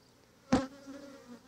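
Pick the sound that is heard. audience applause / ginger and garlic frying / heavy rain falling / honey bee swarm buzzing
honey bee swarm buzzing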